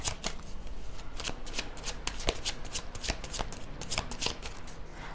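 Tarot deck riffled and shuffled by hand, close and crisp, a run of quick papery snaps and flutters repeating in an uneven rhythm with no voice over them.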